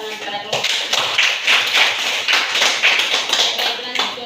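A classroom of students clapping for a group after its discussion presentation: a steady, moderately loud round of applause lasting a few seconds, with rhythmic pulses of hands.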